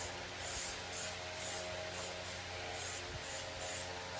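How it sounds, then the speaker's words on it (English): Short bursts of aerosol glue accelerator (kicker) spray hissing close by onto tape on a foam core wing, about seven quick puffs in a steady rhythm over a quiet background. "spray that tape down."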